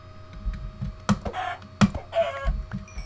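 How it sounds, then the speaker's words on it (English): A chicken in the Minecraft video game clucks in short repeated calls over a low game hum and faint keyboard clicks, with no talk. "It's a chicken."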